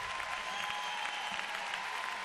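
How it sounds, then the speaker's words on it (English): A Boston arena crowd applauds and rises for world champion ice dancers at a figure skating championship, a steady wash of clapping and cheering heard from a distance throughout. "Crowd to its feet here in Boston for the world champions, Meryl Davis and Charlie White."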